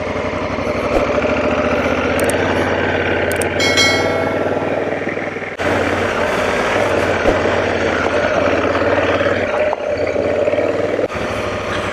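Honda Africa Twin DCT motorcycle engine droning steadily while riding the Old Ore Road in Big Bend National Park, loud and close with constant wind rush and brief rattles.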